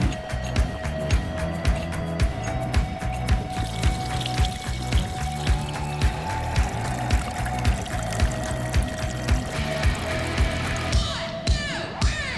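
Water cascades steadily down a 75-foot backyard pondless waterfall, a continuous close splashing and trickling rush with faint rhythmic tapping beneath it.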